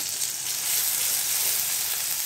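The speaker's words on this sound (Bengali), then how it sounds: "পেঁয়াজটাকে ভালো করে লাল লাল করে একটু ভেজে নেব।" Onions fry in a wok with a steady, bright sizzle and hiss, close and continuous with no talk, the crackle holding level for a couple of seconds.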